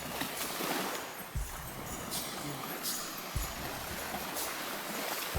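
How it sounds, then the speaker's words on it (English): Small curling waves break on the shore at Mutiny Bay beach in Freeland, Washington, giving a soft, steady wash with faint splashes and occasional brighter surges, heard from close by at low level. "That's a wave when you got a curl like that."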